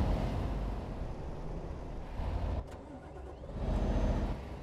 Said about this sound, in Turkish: araba istop ediyormuş gibi ses yapıyor